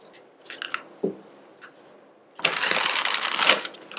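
Tarot cards shuffled by hand: a few soft taps and light rustles, then a loud, close burst of riffling that lasts about a second before stopping.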